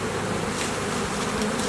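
A swarm of honey bees buzzes loudly and steadily at close range during a hive removal, a dense, unbroken drone with no talking.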